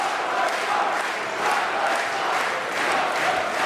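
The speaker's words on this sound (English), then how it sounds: "crowd getting on Cutler here. Cutler sucks chant." Wrestling crowd chanting against Cutler at an indoor independent show, a dense, sustained roar of many voices with rhythmic swells and no clear break.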